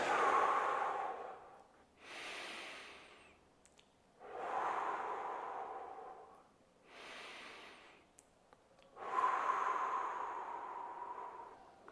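Slow, deliberate breaths accompany a head-tilting neck stretch, with three long inhale-exhale cycles that rise and fall audibly close to the microphone, alternating fuller breaths with softer ones.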